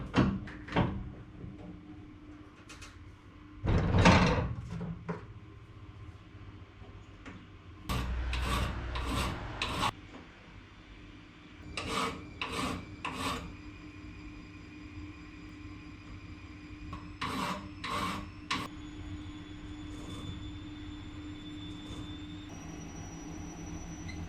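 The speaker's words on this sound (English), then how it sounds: "I might actually just file it by hand." Close-up rasping of a hand file on a metal 6AN power steering fitting for a 1951 Chevy custom, heard in several short bursts of back-and-forth strokes separated by quiet pauses, with no talking.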